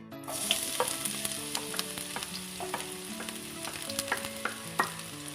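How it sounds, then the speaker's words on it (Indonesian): Garlic frying in hot cooking oil, a steady close sizzle with crackling pops and occasional stirring clinks. Background music with sustained tones plays underneath, and no one speaks. "Minyak sudah panas, sekarang akan saya masukkan bawang putih."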